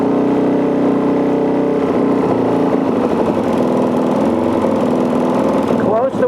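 A Gen II four-stroke carbureted engine idles high with a steady, close, buzzing drone, its pitch holding fairly even with slight wavering, while a person talks over it.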